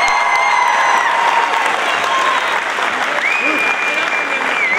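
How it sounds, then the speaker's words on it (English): An audience applauds steadily and loudly at a Sweetheart Queen crowning ceremony, sustained clapping filling the room with some crowd noise and a few faint whistles throughout. "One more round of applause for this group of fine young people."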